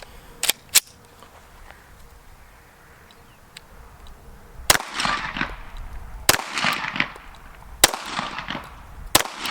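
Pistol shots at an outdoor shooting range, likely a Bear Creek Arsenal Grizzly 101 or Glock 17: a quick double crack, a pause, then a few loud, sharp reports spaced seconds apart, each with a short echoing tail.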